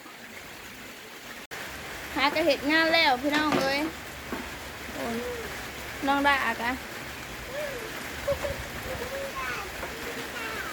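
Steady rain falls outdoors in rural Thailand, a constant hiss of drops running beneath the whole stretch while someone speaks intermittently over it.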